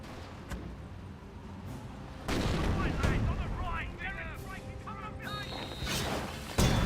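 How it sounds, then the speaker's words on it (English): A 25-pounder artillery barrage in Company of Heroes 1 sounds as a series of heavy booms and impacts over constant battlefield noise, with voices in the background. "25 Pounder barraging."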